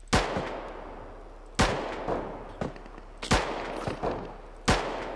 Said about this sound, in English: I think I saw some gunshot there